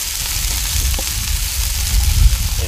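Pre-cooked potato wedges browning on a Blackstone griddle, giving a steady close sizzle and crackle of frying that runs the whole time with no talking.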